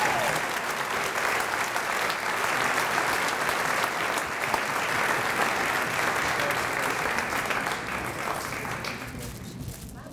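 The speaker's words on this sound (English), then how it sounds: "Let's have another round of applause for Pam Maples" Sustained audience applause at a Champions for Children awards evening, a dense, even wash of many hands clapping for about ten seconds, fading slightly toward the end.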